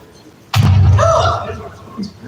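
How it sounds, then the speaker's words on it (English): A cannon fires with a sudden deep boom, then rumbles and fades over a second or two while a voice talks over the tail. "Das was definitely a cannon."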